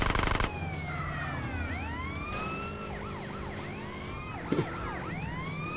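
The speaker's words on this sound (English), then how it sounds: "How are we supposed to stop this ambulance?" An ambulance siren in GTA San Andreas wails in repeated rising and falling sweeps over a steady vehicle engine hum, loud and close, with a brief bump partway through and no talk.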